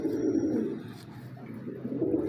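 A Kalu Baloch breed pigeon coos up close, giving low, rolling, throaty calls that swell and fade across the moment.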